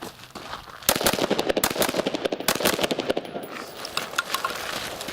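Carbine and handgun shots at a low-light shooting range, a rapid string of sharp cracks in quick succession, loud and close, thinning into scattered shots toward the end.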